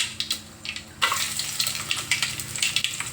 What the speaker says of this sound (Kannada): ಕರಿಬೇವು ಹೆಸರದ ಒಗ್ಗರಣೆ ಕೊಟ್ಬಿಡ್ತೀರಿ